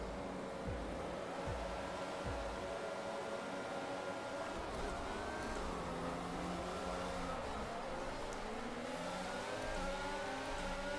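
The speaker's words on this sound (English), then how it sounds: "Car struggled for traction a little bit again, but Lewis had a great launch." Formula 1 cars launching off the grid at a race start in the F1 22 video game, a dense, steady roar of many engines revving and accelerating together, loud and continuous with rising and falling engine tones and no talk.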